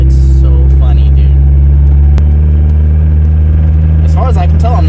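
A Mazda Miata drives around a car meet, its engine a loud, steady, low droning hum close up, while people talk over it.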